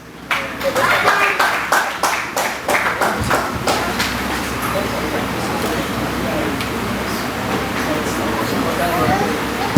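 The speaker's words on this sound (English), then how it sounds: "Please, with a clap of it, let's welcome our father" Audience clapping to welcome a speaker at a church launching event, a burst of claps starting loud and irregular then settling into a steady crowd wash, with voices mixed in.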